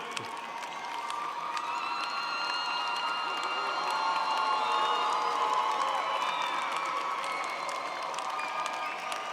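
A large commencement crowd at a college graduation cheers, claps and whoops in a steady roar that carries through the whole stretch, broad and slightly distant in a big hall, without speech over it.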